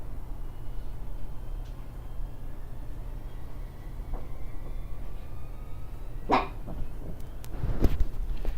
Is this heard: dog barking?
yes